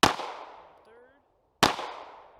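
Two loud, sharp pistol shots come from a CZ P-10 C ported handgun at an outdoor range, spaced about a second and a half apart, each with a short ringing decay.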